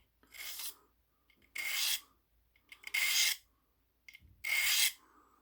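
A knife edge is deliberately dulled by dragging it across 140 grit abrasive: four separate harsh, close rasping strokes, each about half a second long, with quiet gaps between them.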